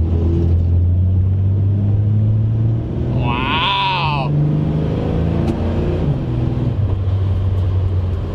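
A 1970 Dodge Challenger with an inline-six 225 engine pulls away from a standstill on a wet, snowy street, a loud steady low rumble that rises in pitch. Someone speaks briefly midway over the engine.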